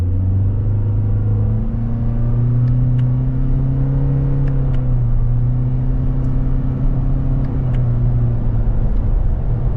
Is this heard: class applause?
no